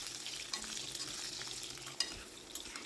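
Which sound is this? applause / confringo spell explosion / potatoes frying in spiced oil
potatoes frying in spiced oil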